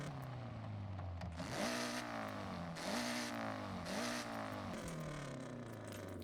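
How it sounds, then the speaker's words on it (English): In Forza Horizon, a BMW with its stock exhaust revs through repeated rising gear pulls, each climb cut by a shift, the engine note clear and alone with no talk. "I actually prefer the stock exhaust sound. Makes it sound a little more unique."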